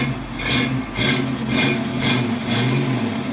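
A 1967 Ford Mustang engine runs nearby, idling with a low rumble while a rhythmic pulsing repeats about every half second, loud and steady with no speech.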